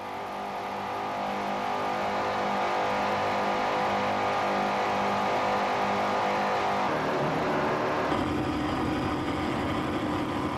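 Offshore racing powerboat engines roar steadily and loudly at speed, a continuous heavy drone that shifts in tone near the end, with no talk.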